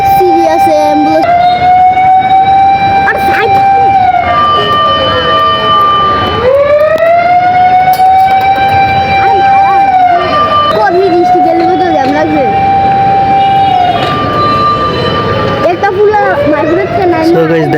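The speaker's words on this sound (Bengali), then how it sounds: "এখানে অ্যাম্বুলেন্সও দাঁড়িয়ে আছে, বাট জ্যামটা ছাড়তেছে না" An ambulance siren wails loudly and continuously in a traffic jam, its rising and falling tone sweeping back and forth close by over the rumble of idling vehicles.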